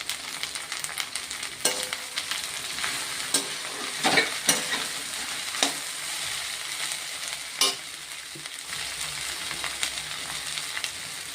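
Food sautés in oil in a thick kadai, a continuous soft sizzle punctuated by repeated sharp scrapes and clinks of stirring, close and without talk.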